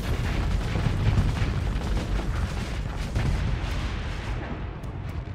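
Missile launches and explosions in the space combat game Starsector, a dense, continuous rumbling barrage of booms and blasts with no clear gaps.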